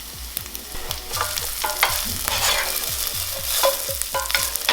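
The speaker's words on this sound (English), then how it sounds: "I'm gonna add in some more Maui Wowee, just so I can caramelize the sugars in it" Maui Wowee caramelizing in a hot pan, a bright sizzle broken by a rapid, regular series of stirring scrapes and taps from a utensil, close and lively throughout with no talk.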